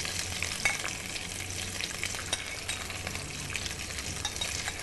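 Already-cooked pork ribs browning in a pan on the stovetop give a steady, close crackling sizzle that runs without a break, with occasional sharper pops and no voices.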